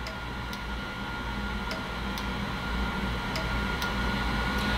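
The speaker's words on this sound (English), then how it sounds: "You can hear the heat relay kicking on and off" Faint, sharp clicks repeat every second or so over a constant low hum, a heating relay switching on and off during Buchner filtration.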